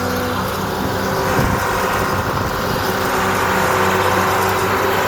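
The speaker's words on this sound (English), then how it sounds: "I love the way it sounds. The engine this has a nice baritone sound to it." A John Deere 690B excavator's 6-cylinder turbo diesel engine idles with a steady, deep baritone rumble, loud and continuous, no voices.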